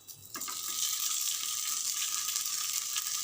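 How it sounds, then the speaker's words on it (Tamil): Leftover rice cutlets hit a hot tawa for shallow frying, setting off a sudden, steady hiss and sizzle of oil that stays loud and even throughout, with no talking. "தவாவில் போட்டு ஷாலோ ஃப்ரை பண்ண போகிறேன்."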